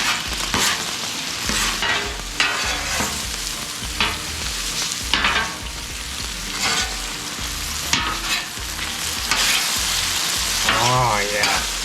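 Octopus in a thickening sauce sizzling on a CampChef outdoor griddle, the crackling fry broken up by repeated scraping of a spatula on the flat steel, close and fairly loud.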